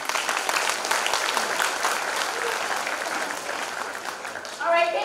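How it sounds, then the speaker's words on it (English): Audience applause for a school choir at a fifth-grade parent night, a dense wash of clapping that holds steady throughout before a voice briefly comes in near the end. "One more round of applause, please, for our fabulous choir"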